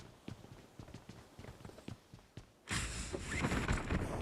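Hooves clip-clop in a steady, even rhythm from a horse in the battle royale game BGMI, fairly faint at first, then masked by a louder burst of broadband noise near the end.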